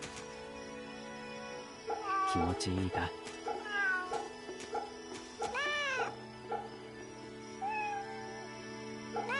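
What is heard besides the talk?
cat meowing, from the video game Fate/Samurai Remnant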